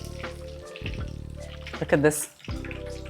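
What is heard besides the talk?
eggplants deep frying in oil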